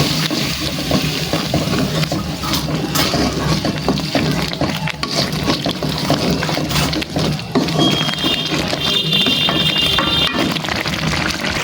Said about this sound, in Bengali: এখন পানি দিয়ে দিব অল্প পরিমাণে